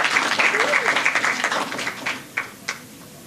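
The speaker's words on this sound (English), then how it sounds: "Please give each and every one of them a resounding round of applause." Audience at the 2017 St. Lucia secondary schools spelling bee applauds the competitors, a brisk round of clapping that thins out and ends in a few scattered final claps.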